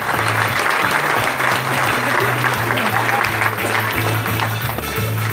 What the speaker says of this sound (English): A round of applause for the bridal party.